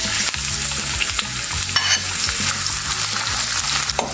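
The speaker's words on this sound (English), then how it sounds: "Since the pan is hot, I will add oil to the pan. Saute onion, 3 medium size." Three medium onions sautéing in hot oil in a pan for Goan beef roast: a continuous dense sizzle and crackle with stirring scrapes throughout, close and fairly loud with no speech.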